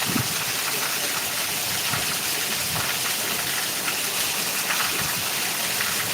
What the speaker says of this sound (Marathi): पाहू शकता पावसाचा आवाज पाऊस एकदम मस्त झालेले आहे